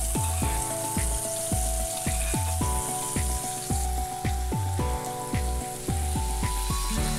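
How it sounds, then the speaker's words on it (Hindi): Spice paste sizzling in hot oil on a slow-to-medium gas flame while cooking a guar bean and potato curry, a steady hiss under loud rhythmic background music with a regular beat. "अब हमने जो मसाले की पेस्ट रेडी कर रखी है वो तेल में डाल लेनी है।"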